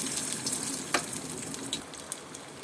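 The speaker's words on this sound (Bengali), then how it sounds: "তেল গরম হয়ে গেছে, এবার আমি একটা একটা করে বড়া দেব।" Bottle gourd fritters (bora) fry in hot oil, producing a close, steady sizzle and bubbling with a few louder pops as pieces go in.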